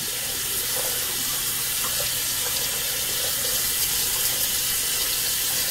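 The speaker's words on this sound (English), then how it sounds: "So we have a little run of water." A bathroom tap runs steadily during a straight-razor shave, a constant broadband hiss of water flowing into the sink with no pauses and no voices.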